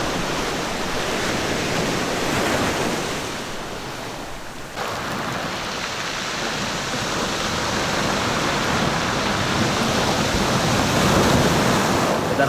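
Strong waves on the East Sea coast near a hard-sand beach path in Yeongdeok: continuous loud, close surf washing and roaring, with a brief lull before the crash builds again and wind buffeting the microphone.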